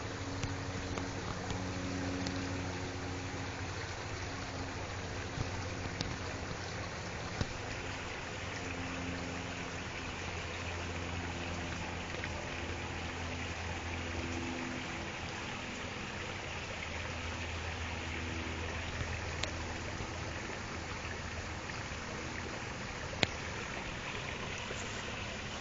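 Water pours out of a discharge channel into Sulfur Creek in a steady, rushing wash that stays even for the whole stretch, with a faint low hum underneath and no voices.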